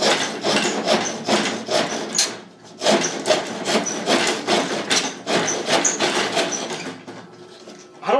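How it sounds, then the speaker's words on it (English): A handsaw cuts through a block of plastic made from melted beads on a sturdy workbench, giving rough rasping strokes in an uneven back-and-forth rhythm with short pauses between bursts, close and fairly loud. "Now let's go ahead and give the handsaw a go."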